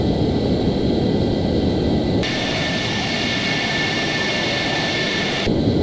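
Steady roar of an F-14 jet engine in Flight Simulator X, with a high whine that rises partway through, loud and constant, with no talking.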